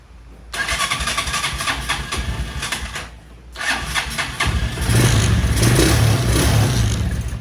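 A motorcycle engine with a dirt-clogged carburetor is tested for RPM. It starts and runs briefly, cuts out, restarts, then revs harder and louder, close and unobscured.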